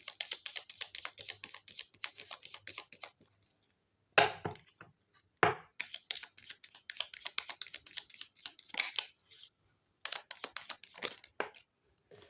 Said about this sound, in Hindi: Now I need to shuffle again for Taurus